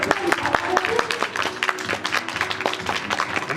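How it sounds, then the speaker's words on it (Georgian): Clapping from a crowd at a first-grade school celebration, a dense patter of many hands that keeps going steadily, with voices mixed into it. "აპლოდისმენტები გამოგხდება."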